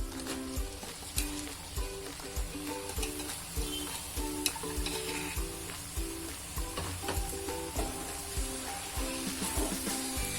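Spinach sizzling in a pan with a little oil while being stirred, a steady hiss under rhythmic scraping strokes and soft background music.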